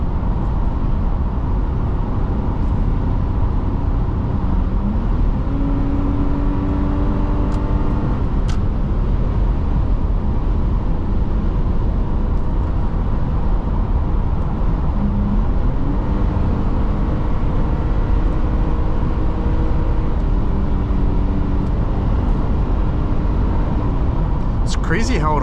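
A 2006 Subaru B9 Tribeca driving and holding a gear, giving a steady, loud engine and road drone with rising and falling engine tones, under a voice.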